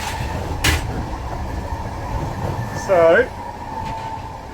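A train rolling through Prague gives a steady low rumble and hum from inside the carriage, with a sharp knock early on and someone speaking briefly over the running noise.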